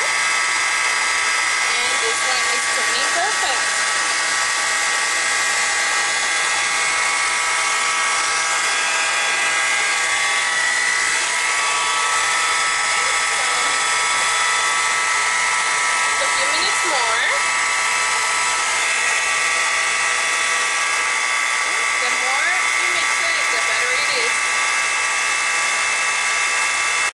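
An electric mixer beats butter and cream cheese for a white chocolate buttercream. Its whine is loud and steady and runs throughout, close up, while a person speaks over it.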